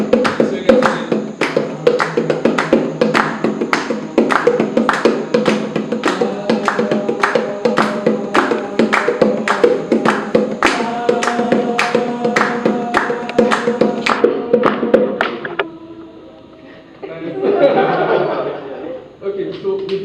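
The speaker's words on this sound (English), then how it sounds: "So keep playing that, and you guys will clap in 4 4" Audience clapping along in a steady 4/4 rhythm, loud and even claps repeating for about fifteen seconds, then stopping as a burst of laughter and chatter rises briefly.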